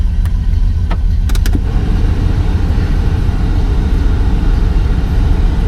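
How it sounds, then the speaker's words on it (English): Climate control fan in a 1972 Buick Skylark blowing air, a steady loud low rumbling whoosh that runs unbroken, with a few faint clicks near the start. "it's just blowing cool air"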